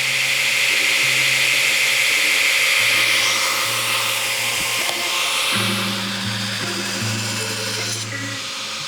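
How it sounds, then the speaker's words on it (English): Power grinder cutting the clip into a Damascus steel Bowie knife blade, a steady loud abrasive whine with a droning motor tone that shifts pitch as pressure changes, no talking. "Now we're gonna grind this clip in"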